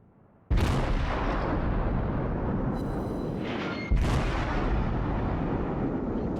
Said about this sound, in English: Let's see what armor-piercing rounds do to a Furitaka.